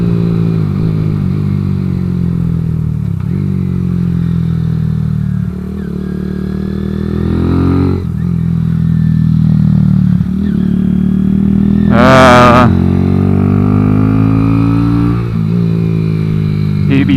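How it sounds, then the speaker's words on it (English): A Kawasaki Z125 motorcycle set up as a track bike, with a slipping clutch, revving loudly and steadily up close, the engine note rising and dipping in repeated surges with a sharp whine near the end. "Oh wow, it is slipping. Yeah, the clutch is slipping."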